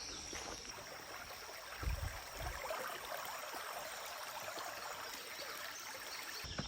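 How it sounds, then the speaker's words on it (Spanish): Steady wash of running water from a small stream flowing nearby along the Natchez Trace, constant and soft with no one talking. "Escucho agua correr por ahí, no sé si será un arroyito."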